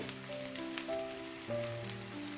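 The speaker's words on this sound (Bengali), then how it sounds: "বেশি ভাজবো না, যেহেতু শাকটা ফ্রোজেন, তো তখন শাকটা নরম হতে হতে পেঁয়াজগুলো একদম পুড়ে যাবে।" Chopped onions sizzle steadily in a hot pan as the base for a spinach fry, a close, even crackling hiss with faint tonal notes in the background and no speech.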